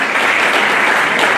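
Loud, steady applause from a crowd at a retirement ceremony, dense clapping filling the whole stretch without pause.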